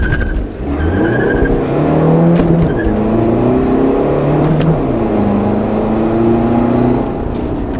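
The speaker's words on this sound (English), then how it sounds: "A diesel car." A modified Volkswagen Golf 7 TDI diesel engine accelerates and revs steadily up through the gears, loud and close, with rising and falling engine tones and a brief tyre squeal.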